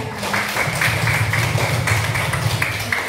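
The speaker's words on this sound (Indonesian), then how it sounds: "Oke, bagus, tepuk tangan semuanya." Students clap their hands together in a classroom, a dense, fairly close patter of many claps running steadily for a few seconds over a low room murmur.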